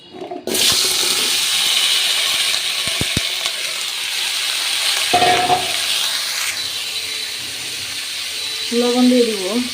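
Cumin seeds are dropped into hot oil, setting off a sudden loud sizzling hiss that keeps crackling steadily with a few faint clinks, and a voice comes in near the end.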